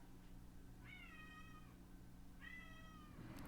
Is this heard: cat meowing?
yes